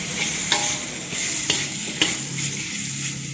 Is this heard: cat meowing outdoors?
no